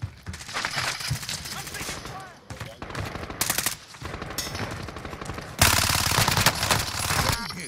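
Automatic gunfire in the Rebirth mode of a shooter video game rattles in fast bursts, some close and loud, others farther off, with a heavy, dense barrage near the end. Players talk over the shooting.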